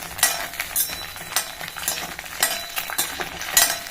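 Eggplant frying in oil in a pan, continuous sizzle broken by repeated sharp scrapes and clinks of a spatula turning the pieces, close and without voices.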